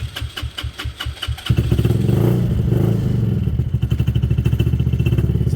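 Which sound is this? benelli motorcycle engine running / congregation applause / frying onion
benelli motorcycle engine running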